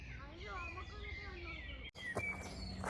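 Birds chirp and sing in a quiet Swiss forest, thin warbling calls close by, with a soft voice murmuring underneath and a brief break before more bright tweets.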